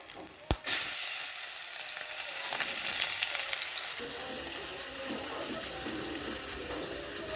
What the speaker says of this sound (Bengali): একটু পেঁয়াজ দিব পেঁয়াজ ভেজে দেবো